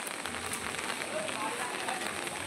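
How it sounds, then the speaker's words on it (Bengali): Heavy rain falls steadily on a flooded street, a soft continuous hiss of drops close by, faint and even throughout. "প্রচুর বৃষ্টি পড়ছে।"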